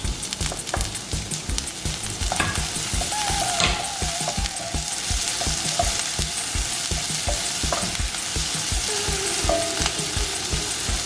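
Sprout spring roll filling sizzles and fries steadily in a pan as tomatoes go in, with a continuous dense hiss and rapid crackle throughout and light stirring scrapes on top.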